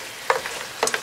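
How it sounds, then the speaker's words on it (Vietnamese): Fried garlic is stirred into pan-fried pork ribs in a pan, giving a few quick scraping stirs over a soft sizzle, close up and without talk. "Bây giờ thì mình cho tỏi phi vào trộn đều lên."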